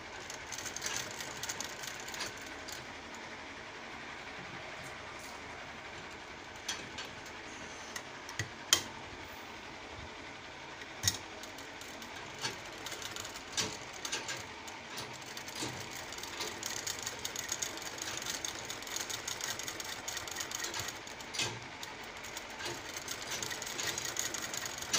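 A large sewing machine with a loose lower stitch runs in a steady mechanical rattle, clicking continuously at moderate level throughout with no talk.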